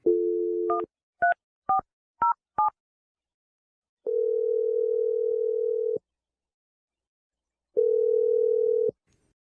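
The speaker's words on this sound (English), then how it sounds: "I'm going to dial the number right now." Telephone dialing a number: a dial tone, a quick series of five DTMF key beeps, then two long ringback tones with silence between.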